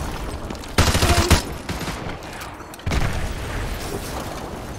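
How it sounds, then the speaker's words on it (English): Heavy bursts of gunfire and booming blasts crackle in quick succession in Call of Duty: Modern Warfare 2 Remastered, dense and loud, with lingering rumbling noise between them. "Those explosions are going to attract a lot of attention."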